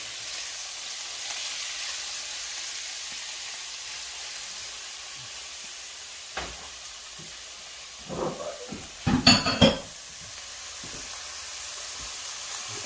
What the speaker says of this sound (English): we're going to let this saute and get kind of soft for just a minute